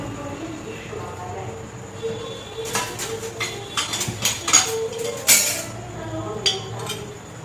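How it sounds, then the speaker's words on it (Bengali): Pressure cooker lid being fitted and locked over dried peas cooking on a gas stove, a run of close metallic clinks and clatters over a low background hum. "ঢাকা আটকে দিচ্ছি।"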